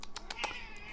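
A talkative male house cat meows in a quick, fairly close series of short calls, with one longer drawn-out meow near the end, while a pet's nails are being trimmed indoors.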